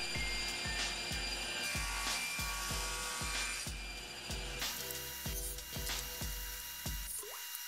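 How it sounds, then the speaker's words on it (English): A saw cutting wood boards on a miter sled, a steady motor whine broken by a regular run of about a dozen close, loud cutting strokes, one after another. "I'm going to move the boards over to the other side of the sled and cut all the B's."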